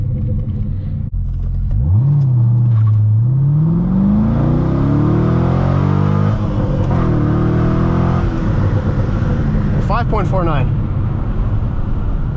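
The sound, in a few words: 2006 Chevrolet Corvette convertible accelerating 0 to 60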